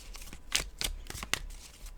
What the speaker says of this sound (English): It's not a good reading unless I sloppy shuffle that, right?